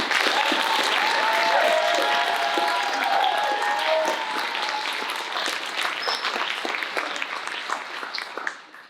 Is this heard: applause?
yes